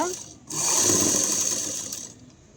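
A sewing machine runs stitches along the piping of a lined blouse: after a short start, one continuous whirring buzz holds for about a second and a half, then winds down.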